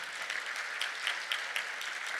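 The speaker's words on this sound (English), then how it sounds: "Another round of applause for" Audience applause for a speaker at a Women in Agile 2022 conference, a steady, somewhat distant spatter of many hands clapping, with a few sharper individual claps standing out over the continuous wash.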